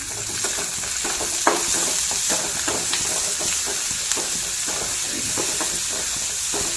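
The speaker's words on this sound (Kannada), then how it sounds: "ಟೊಮೆಟೊನೂ ಕೂಡ ಸಾಫ್ಟ್ ಆಗೋವರೆಗೂ ನಾನು ಫ್ರೈ ಮಾಡ್ಕೊತೀನಿ" Tomatoes fry in a pan for a Karnataka-style curry, a steady close sizzle broken by repeated stirring clatters and scrapes.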